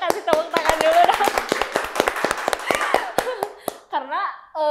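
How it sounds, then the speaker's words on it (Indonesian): A burst of quick, close hand claps rattles along with voices talking and laughing over it, ending in a few shouted words. "kasih tepuk tangan dulu dong"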